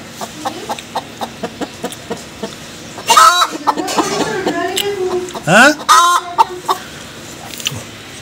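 Village chickens cluck in a quick, regular series of short clucks, then louder squawks and clucks continue while people talk over them.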